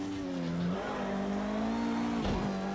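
A Bentley Speed 8 race car engine in Project CARS 2 at Bathurst drones steadily at high revs, with a brief gear change dip and downshift blip, loud and alone.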